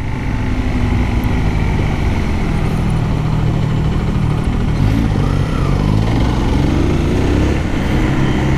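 A Zontes R 350 motorcycle engine runs loud and close on a test ride, its pitch climbing as it revs up and accelerates, over a steady rushing drone.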